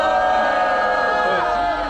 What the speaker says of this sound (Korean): 자, 다시 한번 함성